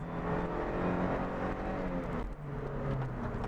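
A light Toyota MR-S (MR2) sports car pushed through a corner on a residential street, its engine and road noise steady and close, revving briefly as it pulls through the bend.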